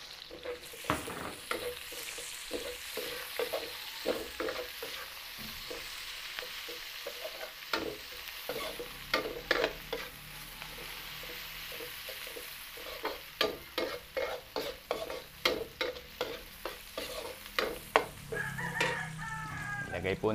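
Beef offal with garlic and onion being stirred and sautéed in a hot pan, a steady sizzle broken by repeated scraping and stirring strokes, close and fairly loud, with a rooster crowing somewhere in the background.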